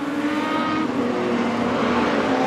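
Production sedans racing in the Queensland title A-Main at Carina Speedway, a dense, continuous roar of engines at high revs that stays loud and unbroken throughout.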